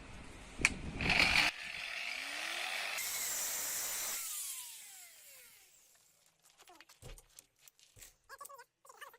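An Einhell wall chaser whines loudly with a rough buzz while cutting a channel, then winds down and stops, followed by scattered clinks and light handling noises.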